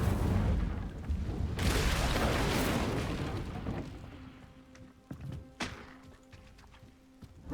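In Hogwarts Legacy, an Incendio fire spell erupts in a loud, roaring blast of flame that rumbles for a couple of seconds, then fades into scattered sharp clicks and small impacts.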